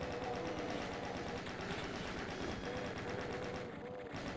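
Rapid continuous chaingun fire from chaingunner enemies in the video game Doom II rattles steadily and loudly, with dense overlapping shots and no talk.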